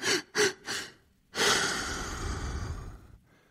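A voice demonstrates a child's sobbing breath: three short, jerky gasping inhales in quick succession, then after a pause a long, loud breathy exhale trailing off, close and alone.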